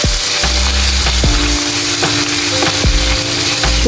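Dried ribbonfish (churi shutki) sizzles steadily as it fries with spices in a hot pan, a loud continuous crackle with stirring scrapes and clinks recurring every second or so.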